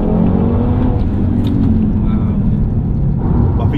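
A deep, rumbling Audi TT sports car exhaust burbles loudly and close by, holding a throaty idle with slight swells in intensity.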